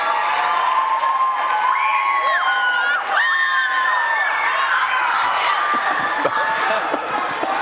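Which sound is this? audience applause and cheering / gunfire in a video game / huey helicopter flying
audience applause and cheering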